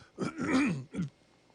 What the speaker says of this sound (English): I'm going to turn off my mic and clear my throat.